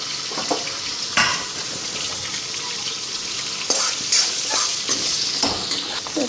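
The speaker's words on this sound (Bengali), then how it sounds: "ওইদিকে পনিরটাও ভেজে নিতেছি হালকা। তো এইদিকে আলুটাও দিয়ে দিলাম।" Paneer and potatoes frying in oil in a pan, a steady close sizzle broken by several sharp scrapes and clinks of a stirring utensil against the pan, with no talk.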